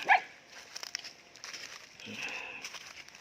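A single sharp dog bark at the start, then quieter indistinct rustling and faint background noise.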